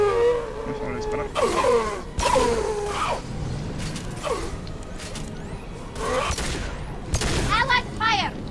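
Gunfire during a Mass Effect 2 battle on Tuchanka, scattered sharp shots and mechanical weapon clatter mixed with whooshing effects, while voices speak over the combat.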